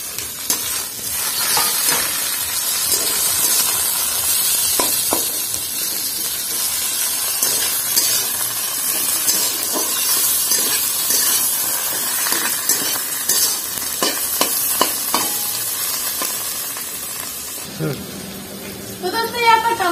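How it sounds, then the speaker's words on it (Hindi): Tomatoes frying in a pan for a magur fish curry, a steady broadband sizzle with hiss running loud and continuous, a few faint utensil clinks, and a brief shift near the end. "यहाँ पर टमाटर भी भाजी करना कंप्लीट हो गया है"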